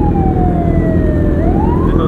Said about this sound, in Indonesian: Wih ambulansi.